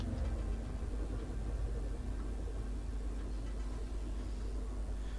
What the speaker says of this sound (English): there's a very different sound to that engine noise, even just the default noise, not even the boost